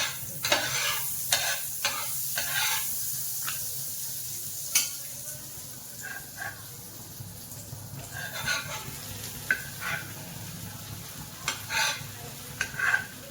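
Butter sizzling on a hot griddle over a low flame for cheese garlic bread, a soft continuous hiss broken by repeated scraping and spreading strokes and light taps, close and without talk.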